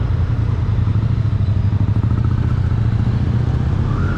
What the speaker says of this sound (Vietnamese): Thì cái chiếc này nó là động cơ 3 xi lanh tận hàng nha các bạn